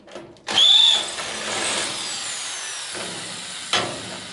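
Drill bit guided through hinge holes marking the rear body wing of a Citroën Traction 11B, a short whining burst up close followed by grinding contact and a sharp final catch.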